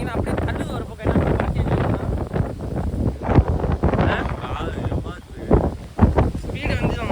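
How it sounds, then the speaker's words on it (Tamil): Strong wind buffets the microphone outdoors beside a new BMW S1000 RR superbike in Trichy, a steady roaring rumble that surges and dips throughout, with someone talking over it. "காற்று அவ்வளோ அடிக்குது"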